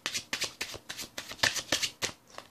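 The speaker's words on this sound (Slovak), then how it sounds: "Teraz tie karty ešte zamiešam" A deck of playing cards is shuffled during a card trick, about a dozen quick crisp riffling bursts in close succession, near and fairly quiet, with no talk.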